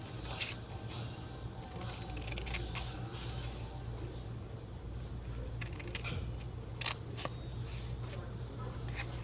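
Scissors cutting a notch in cardstock for a small stamped Christmas box, quiet crisp snips and paper rustling in short irregular bursts over a low steady hum.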